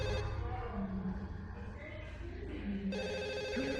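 A telephone rings in the video game Forbidden Siren 2, a loud, steady electronic trill that carries through the whole stretch over a dense, droning game ambience, with no voice over it.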